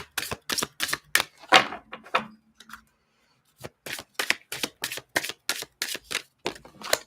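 A deck of cards being shuffled, with repeated quick riffles and snaps in a steady rhythm, a brief pause midway, then more crisp close riffling.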